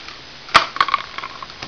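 Scissors snip through a paper tube, halving it, with a sharp crunch followed by several smaller crisp cuts and crackles, close up and with no talking.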